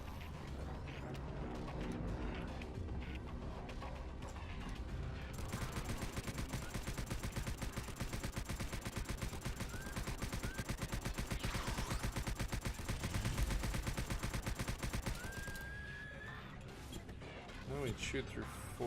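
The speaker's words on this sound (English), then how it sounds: "Like, powerful shotgun." Plasma shotgun fire in the video game Subterrain, a dense run of rapid, loud blasts with synthetic whines, going on almost without a break under game music and effects.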